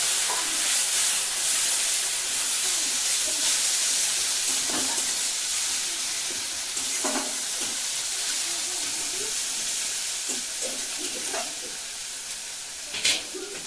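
Onion and garlic paste sizzles steadily in hot frying oil for a Bengali-style rohu fish kalia, a close, continuous hiss with scattered pops and spatters and occasional stirring scrapes, no voices.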